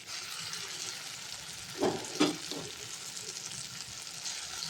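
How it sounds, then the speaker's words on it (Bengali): Mustard and poppy seed paste frying with fish in a pan, a low, soft sizzle running steadily with two brief louder bumps of stirring near the middle. "এবার সর্ষে পোস্ত যেটা বেটে রেখেছি মিক্সিতে, ওটা দিয়ে দেবো, ওটাকে একটু কষিয়ে নেব।"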